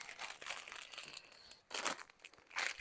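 Scissors cut open an Amazon package, giving close, crisp crinkling and tearing bursts of plastic or paper in uneven spurts, separated by short pauses.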